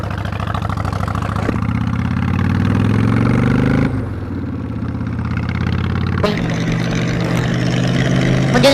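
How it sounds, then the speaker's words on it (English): A loud 1100 cc Honda Shadow motorcycle engine runs steadily with deep, rumbling harmonics, revving and shifting pitch over several seconds, with wind and road noise mixed in. "1100 cc Honda Shadow."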